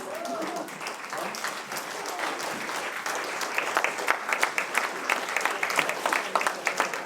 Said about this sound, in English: You want to get a little applause from the public again?